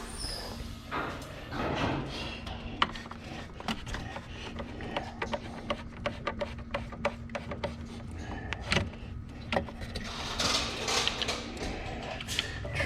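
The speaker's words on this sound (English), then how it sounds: "now the next thing we have to do is we have to unbolt the radiator" Ratchet and tools working on the radiator bolts and T25 screws of a 2016 BMW X3 xDrive28i, with irregular clicks, rubs and scrapes of metal and plastic, fairly quiet and close, over a low steady hum.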